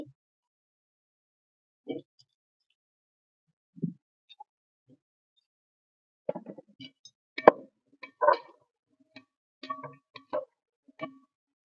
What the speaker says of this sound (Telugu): అలాగే పొటాటో కూడా వేసుకోవాలి.